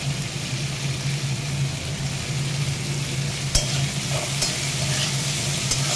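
Drumstick vegetables fry in a pan with a steady, close sizzle and faint scraping as they are stirred, plus a low background hum.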